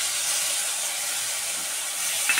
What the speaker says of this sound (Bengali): এবার আমি রসুন লঙ্কা বাটাটা দিয়ে দিচ্ছি।